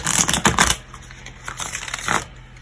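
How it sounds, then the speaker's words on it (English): Two bursts of crisp papery riffling as tarot cards are shuffled close by, each lasting under a second with a quieter rustle between them. "I'm going to go ahead and do a couple more shuffles on camera for you"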